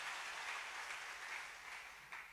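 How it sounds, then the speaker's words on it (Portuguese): A church congregation applauding during a worship service, steady scattered clapping from many hands, moderately distant and fairly faint, with no speech. "Então vamos dar um forte aplauso ao Senhor Jesus."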